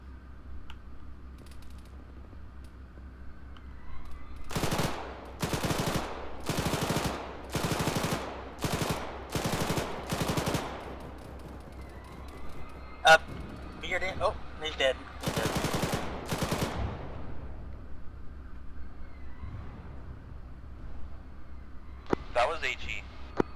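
A vehicle gunner in the Arma 3 video game fires a machine gun in a string of loud sustained bursts with short gaps, followed by scattered single shots, while voices talk over radio at times.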